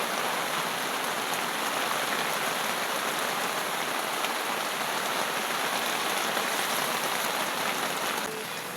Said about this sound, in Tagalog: biglang umulan dito sa campsite namin